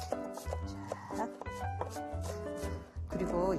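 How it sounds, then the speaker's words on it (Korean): A knife finely minces food on a cutting board in quick, light strokes, heard under steady background music. "그 다음에 종종종종종종 다져주세요."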